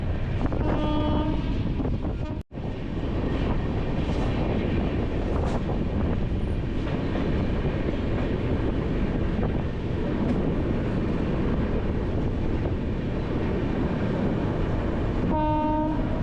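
The Shatabdi Express rolls through New Farakka Barrage station with a continuous rumble of wheels on rails and wind buffeting the microphone. Short horn blasts sound near the start and again at the end.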